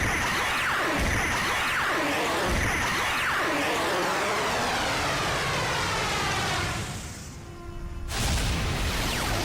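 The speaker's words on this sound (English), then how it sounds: "Initiating Soul Cannon countdown. Firing Soul Cannon in 3," The Soul Cannon fires in the video game Fuga: Melodies of Steel, a loud roaring, sweeping blast that drones on for several seconds, dips briefly, then surges back.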